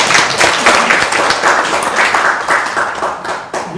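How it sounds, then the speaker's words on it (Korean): Loud, sustained audience applause at a Korean policy forum, dense clapping that keeps going before tapering off near the end. "박수 한번 보내주십시오."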